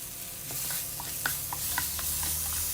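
Peppers, onions and chicken fry in a pan, a steady close hiss of sizzling with small pops and crackles throughout, no one speaking.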